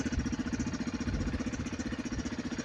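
Aurora Hector 450 ATV engine idling close to the exhaust, a steady, even throbbing pulse that stays loud and constant with no talk.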